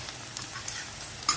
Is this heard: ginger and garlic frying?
yes